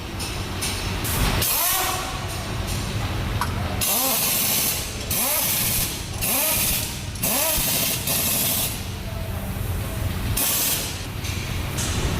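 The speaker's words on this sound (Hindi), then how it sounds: "जब भी टायर फिक्स होता है ना, तो उसको जब फिक्स करते हैं ना मशीन के साथ, वो वाला जो किर्र करके साउंड आता है ना" A tyre-fixing machine at a Renault Kiger service gives loud, close whirring and ratcheting bursts, repeated several times with short pauses between them over a noisy workshop background.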